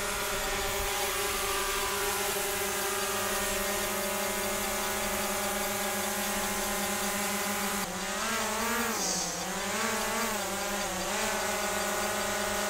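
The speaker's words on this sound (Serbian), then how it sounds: "letim prvi put, odnosno puštam dron" A small camera drone hovers and flies near a truck, its steady high-pitched buzzing whine holding constant, then wavering in pitch as it maneuvers in the second half, loud and close with no talk.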